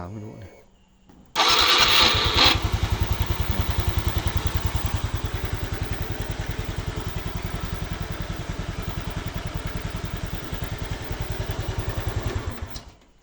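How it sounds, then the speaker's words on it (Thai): A Honda Wave 110i motorcycle, which idles unevenly, is hard to start and is suspected of leaking valves from carbon buildup, cranks once and catches abruptly. It settles into a loud, close, steadily thumping idle for about eleven seconds before cutting off. "เดี๋ยวผมลองสตาร์ทให้ดู"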